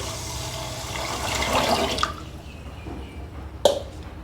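Water splashes and gurgles into a bowl of washed idli ingredients for soaking, swelling then tapering off, followed by a couple of sharp clinks and drips.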